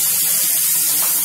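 Onion, tomato and capsicum puree hitting hot oil in a pan for aloo matar sabzi, a loud, steady, close hiss and sizzle with no talking.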